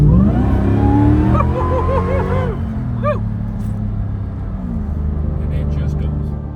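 A 2023 Jeep Gladiator with a swapped 840 hp Demon Hemi V8 rumbles at idle, then revs hard with a whining supercharged rise and falls back to a deep burble, while people talk nearby.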